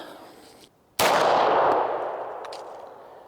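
A Type 14 Nambu pistol fires a single sharp, loud shot after a short quiet moment; the report rings out and decays slowly over the following two seconds, with a faint metallic click afterward.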